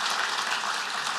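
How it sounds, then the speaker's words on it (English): A dense wash of audience applause fills a hall at the 2023 South Carolina Real Estate Awards ceremony, steady and close throughout a brief moment. "Let's have a big round of applause for this year's winner."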